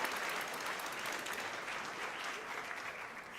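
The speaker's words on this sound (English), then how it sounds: "Stand up and receive our applause." A conference audience applauds first-time attendees at a business talk, giving dense, sustained clapping that stays even and fairly faint for several seconds with no speech over it.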